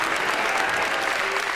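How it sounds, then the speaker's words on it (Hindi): An audience at a Hindi comedy poetry show claps in a dense, sustained burst of applause that fills the room evenly, with no talking over it. "ताली बजानी पड़ेगी"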